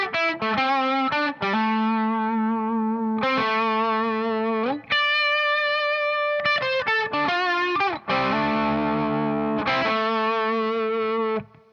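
Distorted electric guitar plays harmonized double-stop lines as a lesson demonstration, with sustained, effects-laden chords in phrased bursts that stay loud and close throughout, no voice over it.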